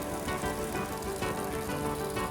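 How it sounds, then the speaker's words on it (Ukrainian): Flushing water gushing from a newly driven Abyssinian well, a dense continuous hiss and splatter of water pouring out, steady and fairly close, with no voices. "Ну це поки промивочна вода біжить."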